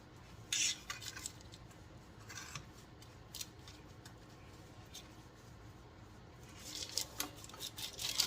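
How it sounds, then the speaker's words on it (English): Soft, brushy scraping as butter is spread heavily around a cake pan, quiet and intermittent with a few sharper scrapes near the start and end. "she's just buttering that pan heavily."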